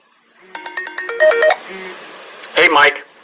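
Electronic phone ringtone from an incoming call, a bright repeating melodic tone pattern that rings for about a second and a half, followed by a short burst of chirping alert tones, fairly close and clear with no talking.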